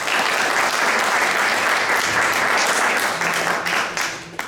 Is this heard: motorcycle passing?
no